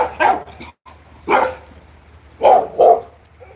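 A dog gives four sharp, loud barks close by, spaced unevenly across a few seconds, with quiet gaps between them and no talking.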